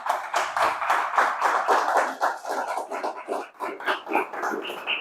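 A congregation claps together during a Spanish-language church service, a dense, steady patter of many hands that carries on for several seconds with no talk over it.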